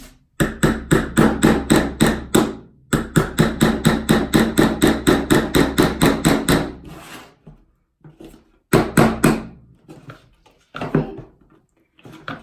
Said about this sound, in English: it's just my little craft hammer, but I'm gonna start right here and hammer away